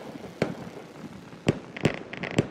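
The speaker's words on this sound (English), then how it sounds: "Fireworks." Fireworks bursting in a quiet outdoor setting, with four sharp cracking bangs spread unevenly across the stretch and a couple of faint crackles between them.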